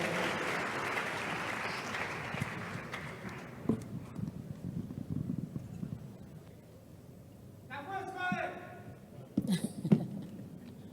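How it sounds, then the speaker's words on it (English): An audience gives a guest of honor and keynote speaker a round of applause at a ceremony marking the 40th anniversary of a Faculty of Renewable Natural Resources. Dense clapping fills the first few seconds, then fades into quieter room sounds and brief noises. "A round of applause for Doc."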